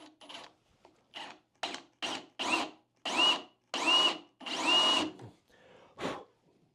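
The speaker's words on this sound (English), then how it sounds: "I'm going to start with the Forstner bit because I want a nice clean hole" A drill with a Forstner bit bores into a wooden chair in about nine short bursts, each a whirring, grinding cut that gets longer and louder as it goes, close up, with no talk.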